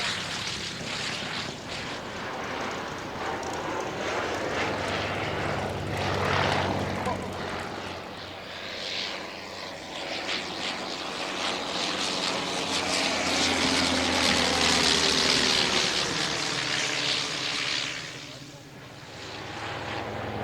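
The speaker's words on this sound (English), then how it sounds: "the Bristol fighter, one of the great fighters aircraft of the First World War" A First World War Bristol Fighter biplane flies at an evening air display at Shuttleworth, its engine a sustained drone that swells and fades as it passes, with commentary spoken over it.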